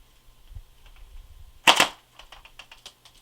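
A single sharp snapping shot from a CYMA AK-47 airsoft rifle firing .12g BBs over a chronograph, preceded by a quiet mechanical hum and followed by faint clicking rattles.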